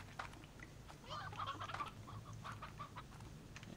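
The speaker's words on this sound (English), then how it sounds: "We got a rooster in there now." Roosters on a farm in the Slime Rancher video game cluck and chatter in a busy, moderately loud burst with no voices over them.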